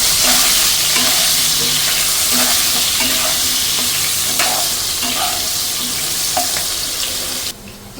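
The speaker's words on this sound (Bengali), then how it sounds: "তেলগুলো দিয়ে আলুগুলো আমি ভালো করে মিশে নেব মাংসটা সেই পাশে আলুগুলো আবার করে মধ্যে দিচ্ছি আলু ভেজে নিয়ে হালকা করে" Potatoes fry in hot oil beside meat in a pan, a loud, continuous close-up sizzle with scattered stirring scrapes that drops off abruptly near the end.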